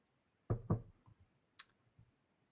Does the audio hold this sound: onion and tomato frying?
no